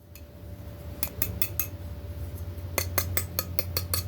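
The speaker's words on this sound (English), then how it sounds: "They are literally metal tongs that are sharp as heck." Sharp metal tongs handled up close, giving a series of bright, quick metallic clinks and taps in two clusters, fairly quiet over a low steady hum.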